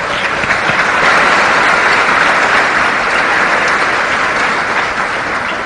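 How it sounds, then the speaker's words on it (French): A large crowd at a graduation ceremony gives loud, sustained applause, dense clapping that holds steady throughout. "Puissent vos mains exprimer votre gratitude à leur endroit par un applaudissement"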